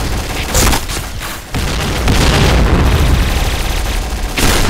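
Grenade explosions in the shooter game Point Blank, a burst of loud booming blasts and rapid gunfire rumbling almost continuously, close and dense, with no talk.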